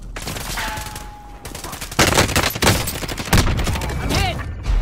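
Loud bursts of gunfire in Call of Duty Warzone, with rapid automatic fire and sharp cracks that come in clusters and grow louder partway through.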